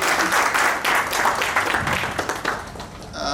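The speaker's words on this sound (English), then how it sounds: "One round of applause for Shubham." A crowd bursts into sustained applause, many hands clapping steadily for a few seconds before it thins out at the end.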